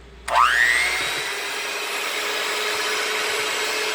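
An electric hand blender whisk spins up with a rising whine, then holds a steady motorized drone while whisking banana bread batter, loud and close, with no voices.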